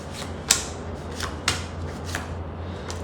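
A deck of 52 playing cards is handled close by. Soft papery rustles come with a few sharp flicks and snaps at uneven intervals over a low steady hum, with no talking.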